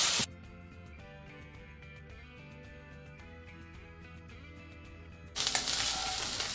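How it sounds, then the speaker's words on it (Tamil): Dried prawns sautéing in hot oil in a pan over a medium flame, a soft continuous sizzle with a brief louder burst of frying at the start and again near the end. "எண்ணெய் சூடானதும் ஏற்கனவே நம்ம வாஷ் பண்ணி வச்சுருக்கிற இந்த காஞ்ச இறாலை இது கூட சேர்த்து நம்ம வதக்கிக்கலாம்."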